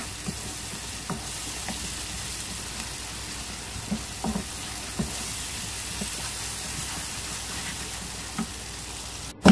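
Chana dal fries in a pan with a steady, close crackle and hiss, scattered soft stirring scrapes through it and a sharp knock right at the end, with no talking.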